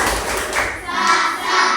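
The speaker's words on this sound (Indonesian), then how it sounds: "Beri tepuk salut buat kelompok 2." Primary school class in Indonesia giving a salute clap for a student group, a short burst of thudding, rhythmic hand claps from many children close by, with a few voices mixed in.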